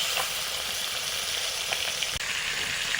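Pieces of chitol fish fry in a wok with a steady, dense sizzle that holds at an even level throughout, with faint pops and one brief knock; no voices.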